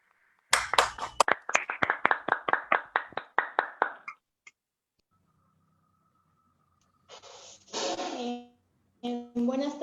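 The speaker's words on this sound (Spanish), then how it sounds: "La recibimos con fuertes aplausos." A small audience gives a short burst of rhythmic hand claps to welcome a student speaker representing a school at a public forum on informality in Peru. The claps end abruptly, followed by a pause and then a voice speaking.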